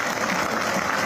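A long stadium applause from football fans at an Italian match against Monopoli, paying tribute to a young supporter: dense, steady clapping fills the whole short stretch at an even level.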